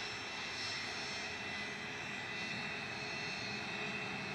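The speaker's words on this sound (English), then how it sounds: "GSLVA lining up, a Pilatus PC-24" A Pilatus PC-24 business jet lines up for departure at Manchester Airport, its engines making a steady, fairly faint whine and rumble that holds level throughout with no voices.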